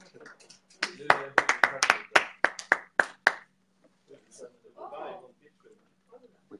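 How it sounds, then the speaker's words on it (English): A quick round of clapping from a few people, roughly a dozen sharp claps in a row at the MAXUS-9 rocket launch in Kiruna, Sweden, as the payload descends on its parachute, followed by voices talking. "We clap even though it hasn't landed on dry land."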